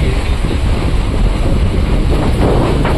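Heavy rain and strong wind outside at a Sundarbans stay make a loud, dense, unbroken roar with gusty buffeting, steady from start to finish.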